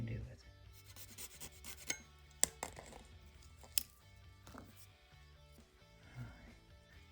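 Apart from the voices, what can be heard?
cutting and trimming a 1/64 diecast limo body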